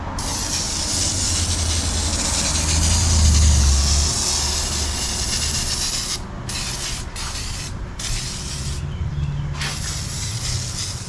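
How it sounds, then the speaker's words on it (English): Degreaser being sprayed onto dirty parts of a street racing motorcycle, then scrubbed, giving a loud, continuous hiss and rough rubbing with brief breaks near the end. "what I'm gonna try to do is use degreaser on all of this nastiness"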